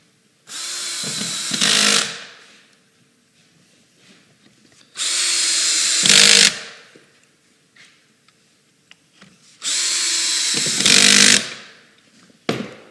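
A power drill drives screws into a wooden newel post in three separate bursts, each a loud whirring spin of about one to two seconds with a brief pitch change at the end, quiet pauses between and no talking.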